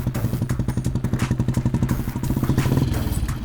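A Royal Enfield Bullet motorcycle runs close by with its deep, rhythmic thumping exhaust pulse, steady and fairly loud, with some clatter over the engine note.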